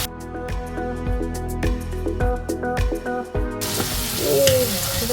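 Onions and cashews sizzle in hot ghee in a pan, a steady close hiss that rises after a stretch of tonal music playing in the background.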